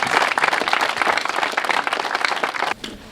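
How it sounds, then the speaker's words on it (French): An audience claps together at a school building handover ceremony in Mboukou, a dense loud burst of applause that stops sharply near the end. "nous applaudissons donc l'association"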